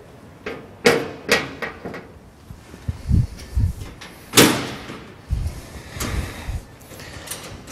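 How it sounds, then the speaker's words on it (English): Metal hinges on the rear panel of an Erde 122 trailer slide and knock onto a bracket in a series of sharp clanks and scraping bumps, close and irregular, several in succession. "Then mount the rear panel. The rear panel just has two small hinges that slide onto a bracket."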